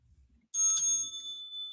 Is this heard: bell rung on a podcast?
yes